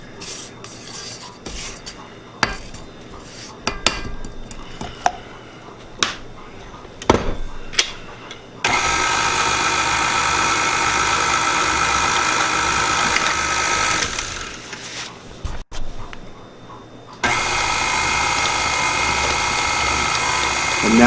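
An electric mixer whirring through peanut butter chocolate brownie batter, a steady motor drone running for several seconds after some clattering and scraping, then starting again after a short pause.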